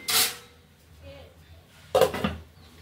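A metal lid clatters onto a pan of mixed vegetable fry being cooked plain without turmeric, two sharp knocks about two seconds apart, close and fairly loud.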